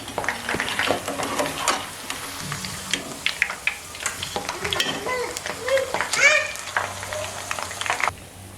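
Evening snacks fry in hot oil with a continuous crackling sizzle while pieces are stirred and flipped, bringing occasional utensil scrapes and clinks, and people talk nearby.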